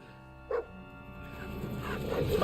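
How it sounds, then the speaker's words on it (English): A dog in the medieval video game Kingdom Come Deliverance 2 gives a short sharp bark followed by faint whimpering yelps, set against a low rumbling game soundscape that swells louder toward the end. "My dog!"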